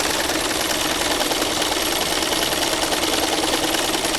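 A sewing machine driven by foot control stitches continuously with a dense, steady mechanical whir and rapid rattle, close and loud, with no pauses.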